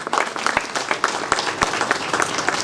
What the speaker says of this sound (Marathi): परत एकदा जोरदार टाळ्या वाजवा